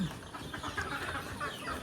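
Desi chickens and roosters on a small farm cluck in a busy, overlapping chorus at close range, with scratchy rustling underneath.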